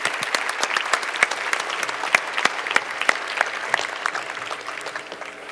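An audience at a sustainable development forum applauds the panelists, with sharp individual claps standing out in steady, moderately loud clapping that tapers slightly toward the end.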